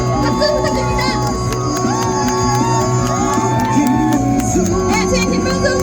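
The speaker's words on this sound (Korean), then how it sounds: "김문수 후보에게 박수 부탁드립니다" Crowd at an outdoor election campaign rally in front of the Cheonggyecheon Soratap, shouting, whooping and cheering loudly and continuously, with raised voices throughout.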